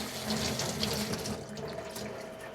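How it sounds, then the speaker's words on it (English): Water runs steadily from a kitchen tap as fresh cilantro is rinsed for guacamole, a soft continuous splashing stream close by with no talk. "And rinse it off."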